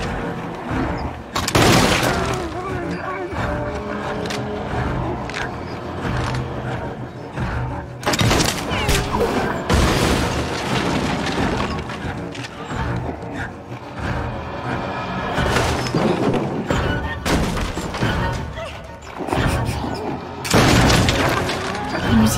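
Enemy gunfire in the video game Little Nightmares II, heavy booming shots and cracks recurring through a loud, dense game soundtrack, with no one talking over it.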